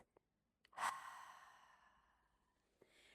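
A single slow exhale out through the mouth, soft and close, rising quickly and then trailing off over about two seconds in an otherwise quiet room, with a faint breath afterward.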